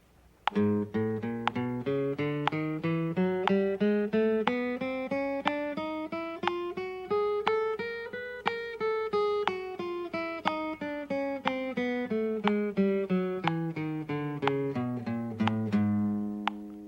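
Plucked guitar notes run steadily up and then back down a scale, three notes to each sharp metronome tick, clear and close with no talking.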